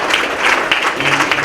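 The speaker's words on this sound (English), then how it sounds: "Give yourselves a round of applause." Sustained applause from an audience at a local candidates forum in Peekskill, a dense, steady wash of many hands clapping throughout, fairly loud and close.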